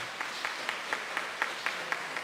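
Faint, steady applause from an audience at a diocesan assembly, a soft continuous patter of many hands with slightly louder claps popping out at a regular pace, distant and even throughout.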